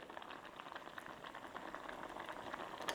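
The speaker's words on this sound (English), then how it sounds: "All I had to do is just add a little bit of water and let it boil." Tofu simmers in boiling water, a steady close bubbling and popping patter that continues without a break and stands alone with no voices.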